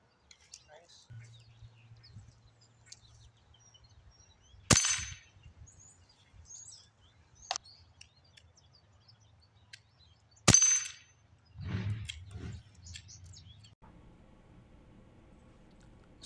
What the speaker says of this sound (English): So after shooting at those targets, um, it became easier to see where we were hitting